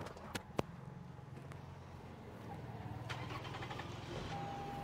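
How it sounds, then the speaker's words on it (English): A car engine cranks and starts after a repair, with a few sharp clicks at first, then a steady mid-level rumble that settles into an idle. "You can try to start the car now."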